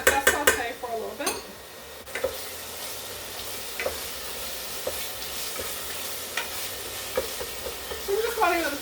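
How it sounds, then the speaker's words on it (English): Leftover cherry tomatoes sautéing in a pan with sofrito and pesto, a steady close sizzle with utensil scrapes and clinks against the pan, louder stirring at the start and end. "So I'm just going to let that saute for a little bit."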